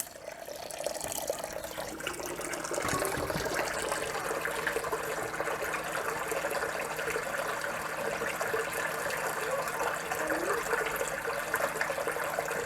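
Water running through the inside of a compressor being washed out during cleaning and repair, a steady rushing splash and trickle that swells slightly after a few seconds and then holds continuously, close by.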